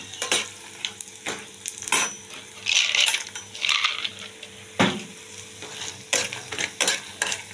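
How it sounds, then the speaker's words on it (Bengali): Lentil dumplings (bori) fry in oil in a pan seasoned with five-spice, giving a steady close sizzle broken by several sharp clinks and scrapes of a spoon against the metal, with no voices. "বড়িটা একটু ভালো করে ভেজে নিয়ে"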